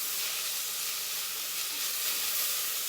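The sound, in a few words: meat pieces browning in a pan for nikujaga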